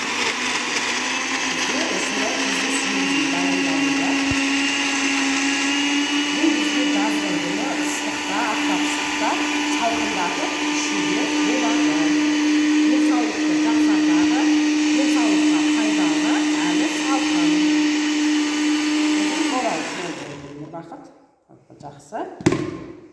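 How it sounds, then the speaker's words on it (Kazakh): A kitchen blender whirs loudly and steadily while mixing a vegetable smoothie made with whey, its motor holding one pitch for about twenty seconds before cutting off, followed by a few clunks as the jug is handled. "Келесі блендермен араластырамыз."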